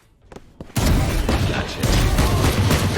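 Pump-action shotgun firing airburst rounds in Valorant: a sudden loud blast after a short quiet lead-in, followed by a sustained dense roar of gunfire and explosive rumble that stays loud to the end.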